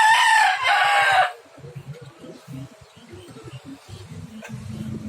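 A rooster crows loudly once at the start among backyard chickens and ducks kept at home, followed by soft clucking and low poultry murmurs.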